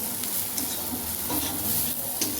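A spoon stirs semolina pulao with softened vegetables in a hot pan, producing a steady sizzle with soft intermittent scraping strokes, close and continuous without talk.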